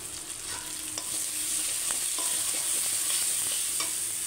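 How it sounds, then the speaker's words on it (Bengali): Ground cumin, coriander, red chilli, turmeric and hot chilli powders fry with ginger and a splash of water in a pan, a steady close hiss with light scraping stirs, no voices. "সামান্য একটু জল দিয়ে মশলাটা আমি ভালো করে ভাজবো"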